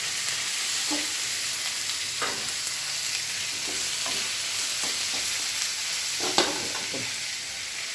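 Scraped drumstick pulp gets stirred in a hot pan under a constant frying sizzle, with occasional soft scrapes and knocks of the spoon against the pan, close and fairly quiet.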